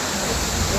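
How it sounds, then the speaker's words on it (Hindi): A mountain waterfall on the Amarnath Yatra pilgrimage route pours in a steady, dense broadband rush of falling water, close and continuous without pause. "तो ये है झरना यहाँ का एक मिला"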